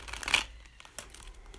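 Tarot cards being shuffled by hand, a quiet crisp riffle and rustle of cards close by, brief and soft against a faint background.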